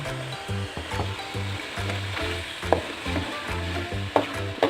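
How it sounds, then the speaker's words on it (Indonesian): Sambal with shrimp and tempeh sizzles steadily in a pan while being stirred slowly, a continuous close frying hiss with scraping and occasional clinks of the utensil against the pan, with no talk. "ini diaduk terus perlahan-lahan, karena kalau nggak diaduk ini takutnya gosong."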